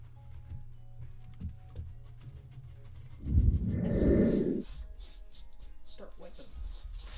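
Rag rubbing gel stain across a wooden surface, a soft broadband wiping swish that swells for about a second, surrounded by quieter rustling and handling, with people talking before and after.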